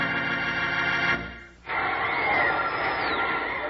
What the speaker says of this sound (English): Hear that crowd cheer?